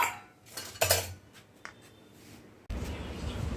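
A pressure cooker lid being set on and locked over rice cooked with tehari masala: a few sharp metallic clanks and clinks up close, then a sudden steady hiss and rumble that runs to the end.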